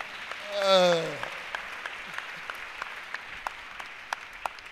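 A church congregation claps in praise at a gathering with a Congolese pastor, steady scattered claps with a brief sung or voiced swell early on, then thinning to individual sharp claps.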